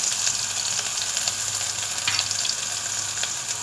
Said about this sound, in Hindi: पतीली में हमने हाफ कप से कम थोड़ा ऑयल डाला है। अब हम इसमें स्लाइस की हुई प्याज डालेंगे।